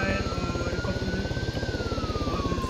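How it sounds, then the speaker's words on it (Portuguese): A helicopter in the video game Arma 3 flies nearby, its rotor producing a rapid, steady thumping chop with a whining turbine tone that shifts in pitch as it passes, loud and close. "cuidado que o helicóptero da Copa tá indo aí"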